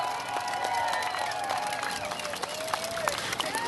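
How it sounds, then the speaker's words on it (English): Large crowd of about 6,000 employees at the Boeing 787 Dreamliner rollout in Charleston applauding and cheering, a steady broadband wash of clapping throughout with scattered whoops. "Please give them a huge round of applause."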